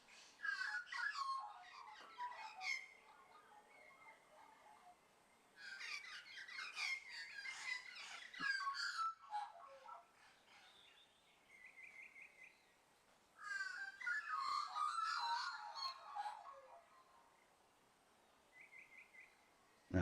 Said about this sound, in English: crows going off again.